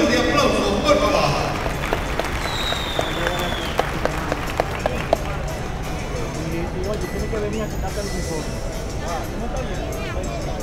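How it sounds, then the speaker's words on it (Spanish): An audience at a Paso Fino horse event claps for two young riders, a scattered burst of applause and crowd noise that fades within seconds while a voice talks over it. "Vamos a recibir estos dos jóvenes con un fuerte aplauso, por favor."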